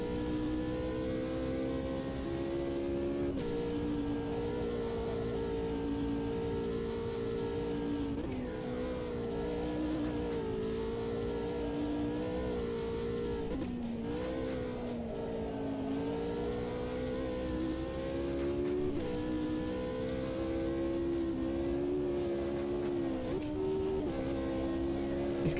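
Race car engine in the sim racing game Automobilista 2 drones steadily for the whole stretch, pitch rising and falling through gear changes, loud and continuous with no talking.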